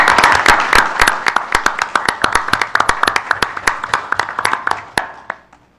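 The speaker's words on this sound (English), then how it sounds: "For all of you, a great round of applause, a big thank you." A small group clapping in thanks for poll workers at a meeting, close, sharp individual claps in a brisk uneven rhythm that thin out and stop after about five seconds.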